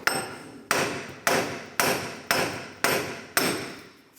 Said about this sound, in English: take a hammer and from the back side tap off the hub.